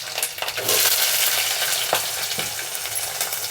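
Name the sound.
onion and green chilli pieces frying in oil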